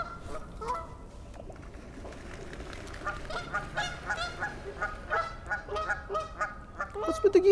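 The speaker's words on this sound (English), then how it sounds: "What's with the geese here, man?" Geese honk repeatedly beside a stocked trout fishing spot in Philadelphia, a cluster of nasal calls growing louder and busier toward the end over steady outdoor background noise.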